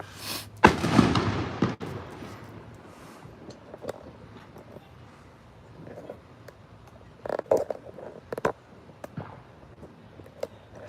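Legal consumer fireworks set off around a West Michigan neighborhood, a loud nearby blast followed by scattered distant booms and crackling pops echoing over a quiet background.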